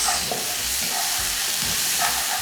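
Chopped vegetables with Scotch bonnet pepper sautéing in a pan, giving a steady close sizzle with soft stirring scrapes and no talk.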